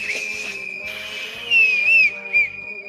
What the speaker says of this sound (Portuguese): Esse apito não tá bom. Outro apito, esse apito tá fraco.